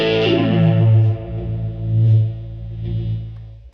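Electric guitar played through an EHX Mono Synth pedal, a synthy distorted tone with a downward pitch glide, then notes swelling in volume and fading, with chorus-like shimmer and no voices.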